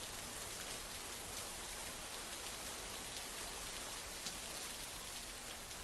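Heavy monsoon rain falls across the Koyna, Navaja and Mahabaleshwar area of Satara district, a continuous even hiss of downpour, soft and distant-sounding, with no voices.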